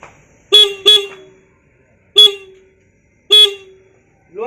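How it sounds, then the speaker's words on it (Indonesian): A motorcycle horn honks four times: two quick beeps close together, then two single beeps spaced apart, loud and near, with quiet between. "Jadi klakson standar motor ini standarnya kan suaranya seperti ini."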